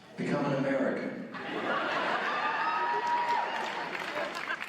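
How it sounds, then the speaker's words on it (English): A small convention audience at Rose City Comic Con gives a brief burst of cheering, chuckling and scattered applause, fairly close, mixed with voices talking. "Oh, I get a small cheer for that?"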